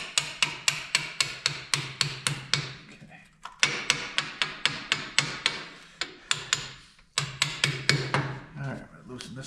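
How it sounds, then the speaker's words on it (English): A hammer taps in quick, repeated metallic strikes on the crankshaft of a Minneapolis Moline ZA tractor, with runs of evenly spaced blows broken by brief pauses, close and loud. "hammer time. Just a little tap tap."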